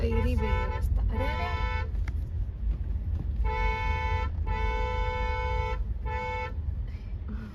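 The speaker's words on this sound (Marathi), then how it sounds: "ट्रैफिक जाम गाय का ट्रैफिक जाम" Car horns honking in a traffic jam near the Bhadra Maruti temple in Khultabad, with long sustained blasts and short toots over a low engine rumble, while people talk nearby.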